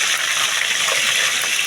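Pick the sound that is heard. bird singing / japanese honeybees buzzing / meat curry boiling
meat curry boiling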